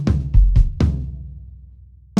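Gospel-style drum fill played on a kit, a short run of sharp hits with strong low thump, four quick strikes followed by a decaying ring, then another hit at the end, loud and close with no talking.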